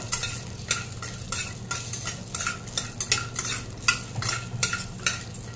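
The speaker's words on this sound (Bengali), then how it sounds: "প্রথমে বড়িটা দিয়ে দিচ্ছি তেলে। তেলটা গরম হয়ে গেছে, বা বড়িটা একটু ভেজে তুলে নেব।" Sun-dried lentil dumplings fry in hot oil in a pan, with a continuous close sizzle broken by repeated scraping stir strokes and light utensil clicks.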